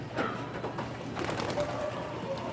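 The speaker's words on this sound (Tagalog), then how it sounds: "naglipara na yung ating mga kalapati" Pigeons coo softly amid a busy outdoor backdrop with faint wing flutters as the flock takes off, all fairly close and continuous, no talking.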